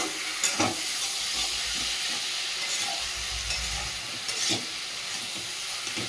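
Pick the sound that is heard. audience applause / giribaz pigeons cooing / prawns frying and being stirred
prawns frying and being stirred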